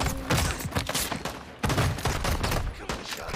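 Sustained bursts of automatic rifle fire in the Modern Warfare 2 (2022) campaign, loud and close, with rapid repeated shots broken by short pauses.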